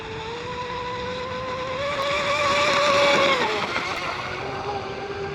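A J&R Marine H26 RC hydroplane boat runs at about half throttle, its small motor giving a steady high-pitched whine that rises and then dips as it passes, heard alone and at moderate distance.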